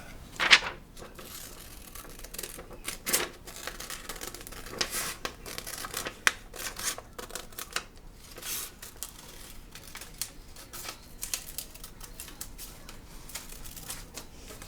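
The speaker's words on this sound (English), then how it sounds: "And then I just basically cut this donut out." Scissors cut a printed paper donut image out by hand, making close, irregular snips and crisp paper rustles throughout with no talk.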